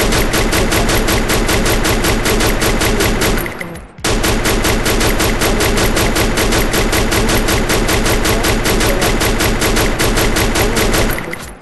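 An M60 machine gun in Free Fire fires loud, rapid sustained bursts with a short pause around four seconds before the firing resumes.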